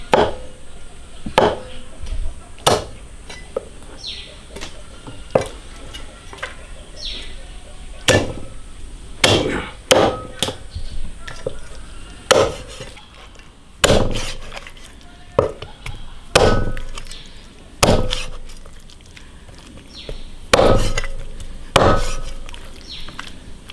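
Raw duck meat being hacked into large chunks with a cleaver: sharp, close, irregularly spaced thuds on a board, some single and some in quick pairs, with a faint background hum.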